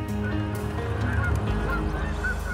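A flock of geese honks over open farm fields used as a hunting ground, with repeated overlapping calls that sound fairly close and loud and keep going without any talk.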